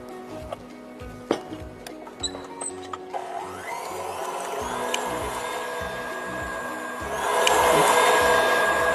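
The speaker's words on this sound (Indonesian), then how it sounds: "Bahan ini kita kocok sampai mengembang dan kental" An electric mixer whips sugar, eggs and cake emulsifier for a chiffon-style layered spiku cake, a steady whirring motor hum that grows louder and harsher toward the end, with faint clinks early on.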